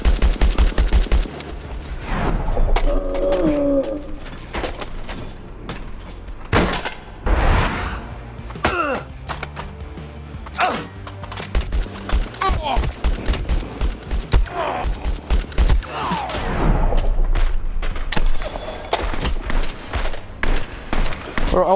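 Rapid bursts of video-game gunfire crackle throughout, with repeated pistol shots and machine-gun fusillades fired at armoured enemies in Hard Bullet, loud and punchy with thuds between volleys.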